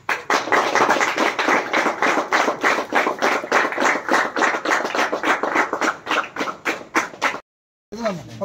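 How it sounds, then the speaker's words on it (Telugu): Steady, fast clapping from an audience at a sports prize event in Kaligiri, continuous and loud for about seven seconds before a brief silence, then a voice begins. "క్లాప్స్ కొట్టండి"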